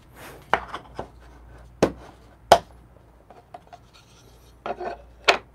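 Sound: shaking ground coffee in a blade grinder

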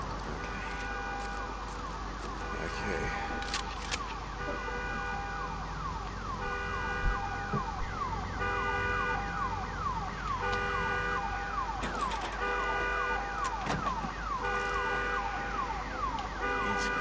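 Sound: alarms sounding in the video game Days Gone

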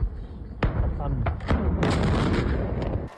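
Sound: explosions at ammunition depot in Greek wildfire

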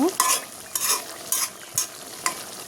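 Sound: fish bhuna frying in a pan

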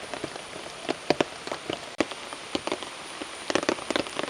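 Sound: rain falling

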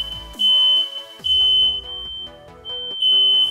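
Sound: smoke alarm beeping

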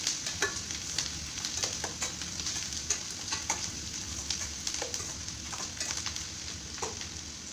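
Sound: green chilies and curry leaves sautéing in a pan

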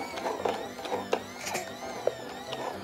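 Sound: Dyson toy vacuum cleaner running

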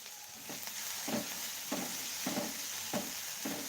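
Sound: onion sautéing in oil

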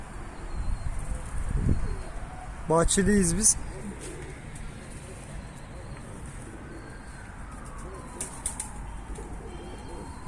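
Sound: pigeons cooing in a coop

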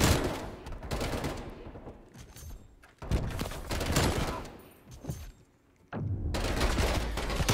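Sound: gunfire from Call of Duty Cold War video game

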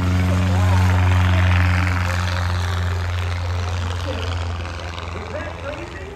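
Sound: Cessna 170 light propeller airplane taking off

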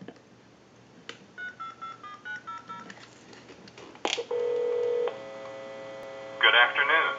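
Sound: tone dialer dialing a time and temperature number on telephone

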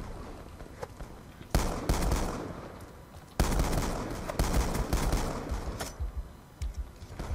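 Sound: shotgun gunfire in the video game Black Ops 2

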